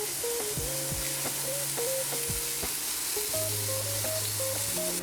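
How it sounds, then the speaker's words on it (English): Wine goes into a hot pan of caramelized mushrooms to deglaze it, giving a steady, close sizzle and hiss with soft stirring scrapes and faint clinks, and no talk. "We want to take our wine, we want to deglaze our pan and get all the goodies from the bottom there"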